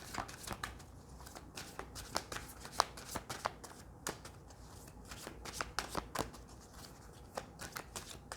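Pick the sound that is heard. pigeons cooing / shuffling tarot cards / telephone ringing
shuffling tarot cards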